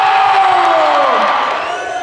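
Crowd cheering and whooping at the Auditorio Nacional in Mexico City as a comedian is welcomed on stage at a La Cotorrisa show, a loud, sustained roar of many voices close and dense, slowly easing.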